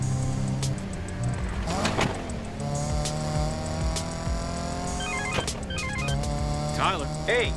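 A car driven in a racing video game, its engine tone climbing and falling through gear changes with brief tire squeals, fairly loud and continuous throughout.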